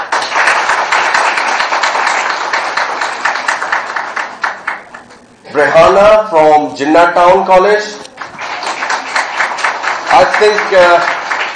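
Audience clapping at an award ceremony, a fairly dense patter of applause that swells and fades in stretches, with a man announcing names over a microphone between the rounds.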